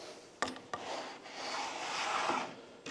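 A wooden board slides back out along a table saw top, producing a soft, close scraping rub with two small knocks near the start.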